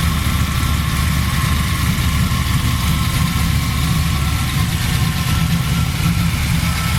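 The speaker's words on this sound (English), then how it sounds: "The engine runs awesome" A 1997 Pontiac Trans Am's roughly 500-horsepower V8, with aluminum heads and an Edelbrock intake, idles steadily with a deep, constant rumble, loud and close, no revving or speech.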